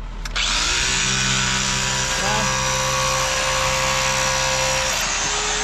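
A cement drill fitted with a jackhammer tip hammers loudly and continuously for several seconds, starting abruptly after a brief knock.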